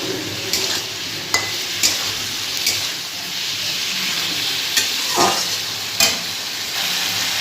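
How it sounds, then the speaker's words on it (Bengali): Spice paste sizzling and frying steadily in a pan with a few grains of sugar, a continuous hiss broken by several sharp clinks of a spoon stirring against the pan, close and fairly loud, no voices. "এবার একটু মশলাটা ভালো করে কষিয়ে নেব কয়েক দানা চিনি দিয়ে দেবো"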